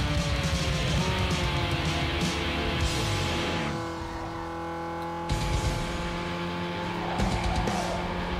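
A Cadillac Escalade SUV racing in Need for Speed Underground 2, its engine droning loud and steady with shifting pitch while tires squeal and skid through turns, easing briefly before surging again.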